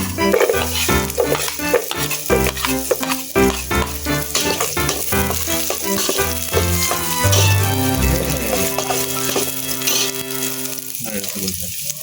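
Ginger and garlic frying in a pan for chicken curry give a sizzle that sits under steady background music, with clattering stirring noises throughout.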